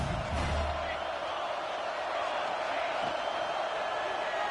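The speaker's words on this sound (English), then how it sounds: "This crowd knows when to bring it." Stadium crowd noise from the college football video game NCAA 26, Michigan State at South Carolina: a steady, loud roar of the crowd with a brief cheer near the start.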